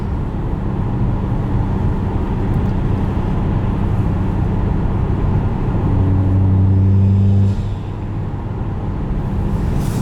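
A 2011 Mitsubishi Lancer Evolution GSR accelerates hard through closely spaced gears, its engine roaring loud and steady from inside the cabin, with a brief rise in pitch and a shift near the end.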